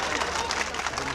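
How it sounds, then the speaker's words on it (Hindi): Audience at an all-India mushaira poetry gathering in Pachpedwa, Balrampur, breaks into dense, close applause that fills the moment, with voices mixed into the clapping. "तालियां बजा दें इनके लिए।"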